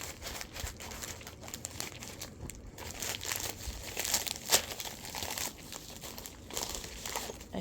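Crinkly packaging being torn and crumpled open while unboxing nail products, a continuous close rustle with sharper ripping spikes and no talking.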